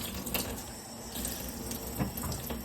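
Cold water runs steadily from a cabin faucet into a sink, a continuous close splashing stream with a slight rise in spatter midway, no voices over it.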